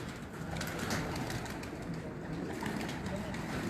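Pigeons coo softly on a breeder's rooftop loft in Faisalabad, faint repeated cooing over a steady background hum.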